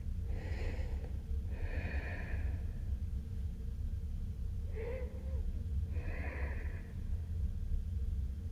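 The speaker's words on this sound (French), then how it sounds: "prenez une respiration naturelle" A person in a seated forward-fold yoga relaxation breathes naturally, with four slow, audible breaths in an even rhythm, close and soft over a quiet room hum, with no speech.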